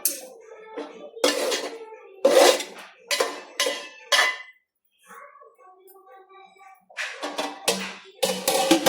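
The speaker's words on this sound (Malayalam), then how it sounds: "നല്ലവണ്ണം ഒന്ന് ഇളക്കിയിട്ട് ഇനി ഒരു രണ്ട് മൂന്ന് മിനിറ്റ് ഇതൊന്ന് മൂടി വെക്കാം" Avial, the Kerala mixed-vegetable dish, is stirred in a pot, producing close, loud bursts of spoon scraping and metal clanking with short pauses between strokes, then a quieter stretch before more clattering as the pot is handled and covered.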